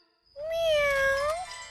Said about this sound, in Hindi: चुईया भी नहीं, बिल्ली है।